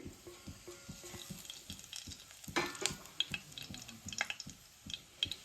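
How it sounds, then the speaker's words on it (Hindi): Carom seeds (ajwain) crackle and sizzle in hot oil in a wok, with a busy stream of small pops and sputters and a few louder clinks of stirring, close and steady. "ये अजवाइन अच्छे से पड़क गई है"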